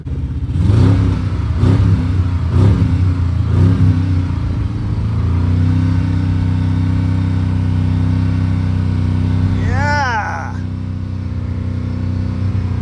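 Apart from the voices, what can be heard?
Hemi engine car revving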